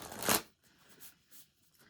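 A deck of tarot cards shuffled once in a quick riffling burst near the start, followed by faint soft card handling and light rustles, close and quiet with no talking.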